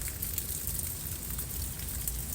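Rainfall hisses in a steady, even wash of fine drops, soft and continuous over a low rumbling undertone, with no voices.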